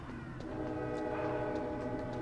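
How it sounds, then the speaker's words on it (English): A train sounding its horn, a sustained blaring multi-tone blast held steadily over the rumble of the moving train at moderate distance, with no talk. "Train!"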